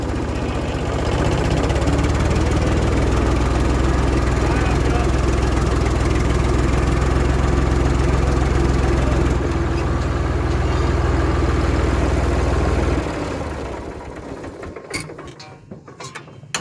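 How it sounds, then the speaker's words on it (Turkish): Vehicle engine pulling away slowly without throttle, a steady low mechanical drone with rumbling idle character running for about thirteen seconds before fading out, with a few faint clicks at the end. "Bilerek gaz vermeden kalkıyorum ki sarsmasın diye."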